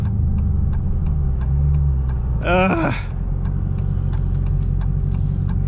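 A Dodge Challenger Hellcat Redeye's engine idles with a steady low rumble heard from inside the cabin, accompanied by a regular ticking of the turn signal, with a brief voice in the middle.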